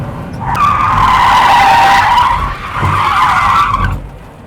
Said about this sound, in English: Here we are on a stunt driving course practicing. This is how to do a 360.